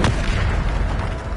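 Bombarda spell blast in the video game Hogwarts Legacy: one loud explosive boom at the start, followed by a rolling low-frequency rumble that slowly fades.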